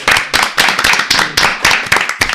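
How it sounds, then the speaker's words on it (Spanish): A crowd applauds with dense, steady clapping that swells in repeated bursts, loud and close, with no talking over it. "Son Kike y Álvaro, así que un aplauso para ellos."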